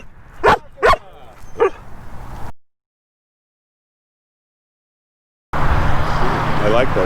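A dog barks close by, three sharp barks in quick succession with brief yips, then a pause of silence before a stretch of broadband outdoor noise like passing traffic.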